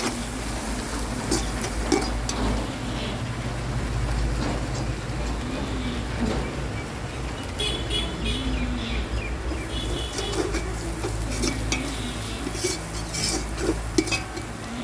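Chicken biryani masala being stirred in a pot on an open rooftop, with scraping and clinking of a spoon against metal over a constant low rumble, plus occasional bird calls in the background.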